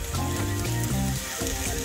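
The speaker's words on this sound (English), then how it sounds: "you can hear it cracking almost like popcorn" Roasted potatoes sizzle and crackle in a hot pan, a dense, loud hiss with constant popping that runs without a break, alone and close.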